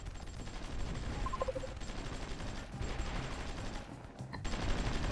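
Artillery and gunfire rumble through a World War I-era strategy game battle in Crimea. Dense overlapping bursts of gunfire roll along at moderate volume, with a brief game tone early on.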